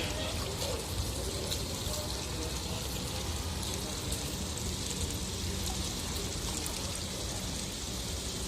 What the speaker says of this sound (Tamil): தண்ணி கரெக்டாக ஊற்றுக்கணும்.